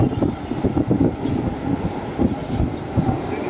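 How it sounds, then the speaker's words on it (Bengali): A passenger train from Asansol to Muradi rumbles along with continuous low clatter and rhythmic wheel thumps, heard from on board. "10টা 15 রাইট টাইম ট্রেন ছাড়লো"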